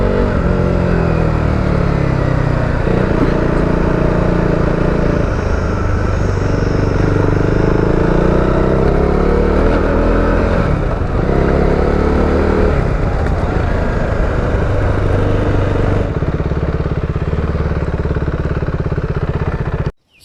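A rebuilt 390 motorcycle on a ride sounds as a loud, continuous engine roar with rising and falling revs and strong rushing wind noise throughout, cutting off sharply at the very end.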